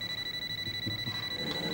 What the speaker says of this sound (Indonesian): angkat telepon